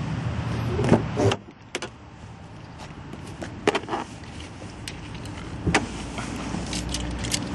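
Rear seats of a 2011 Volkswagen Passat are folded down, with lever clicks, thumps and soft upholstery shuffles at close range in an otherwise quiet car interior.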